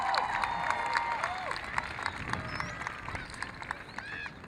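A school audience greets a speaker with steady applause mixed with whoops, shrill whistles and excited voices, a dense crowd roar that holds for several seconds.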